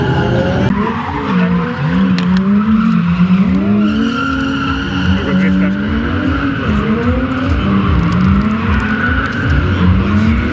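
A drifting car on a summer drift track, helped along with the handbrake, lets out a loud, sustained tire squeal that wavers in pitch over a steady engine roar, while people talk over it.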